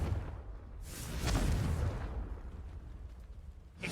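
A Confringo spell cast in Hogwarts Legacy bursts into a fiery explosion: a whooshing onset swells into a loud, rumbling boom that slowly fades, with a fresh sharp burst at the very end.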